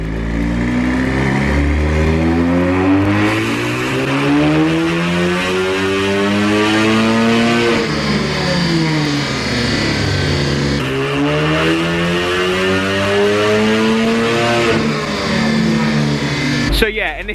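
Audi S3 with methanol injection running on a dyno, engine revving loudly and steadily with rising and falling harmonic sweeps as it climbs through the revs, sustained at full volume for most of the run before cutting off near the end.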